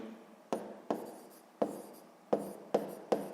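Pen or chalk strokes tap and scrape out a math solution in six or seven separate bursts, each a sharp onset trailing off, close and fairly quiet with no talking.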